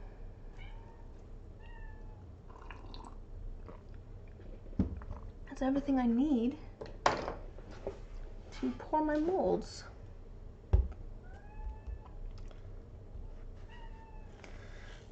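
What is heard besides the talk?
pet cat meowing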